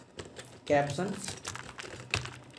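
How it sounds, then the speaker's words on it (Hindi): Computer keyboard keys clicking in irregular bursts while code is typed in Visual Basic, with someone talking over the tapping. "तो चलिए हम यहाँ पे इस पर क्लिक करके कोड लिख देते हैं"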